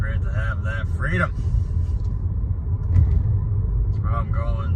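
A car engine hums low and steady with road rumble while driving, with voices speaking over it in stretches and a brief bump near the middle.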